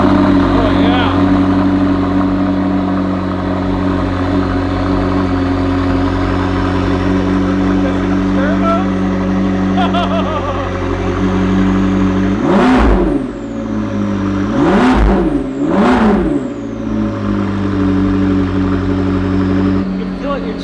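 A McLaren 650S with twin turbos and a Kline Inconel exhaust idles with a steady droning hum, then gives three sharp revs that rise and fall in quick succession near the end.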